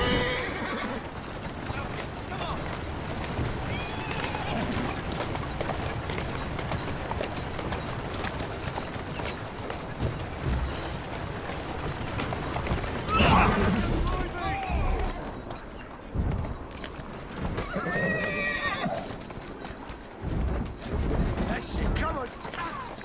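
Hooves clip-clop at a gallop while a horse neighs and whinnies several times, loud and close, with a voice talking over parts of it, in the video game Assassin's Creed Syndicate.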